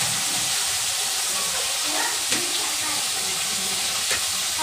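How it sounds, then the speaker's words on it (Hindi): Paneer cubes fry in a hot pan with a steady, close sizzle and crackle that runs the whole time, with faint occasional pops and no talking. "मेरी मम्मी सारे पनीर को ऐसे ही फ्राई कर लेगी अभी"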